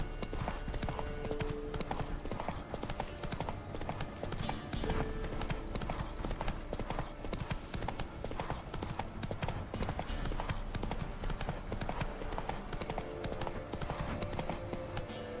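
The horse Roach trots along in The Witcher 3, its hooves clip-clopping steadily and evenly through a dense, continuous game soundscape with faint voices in the background.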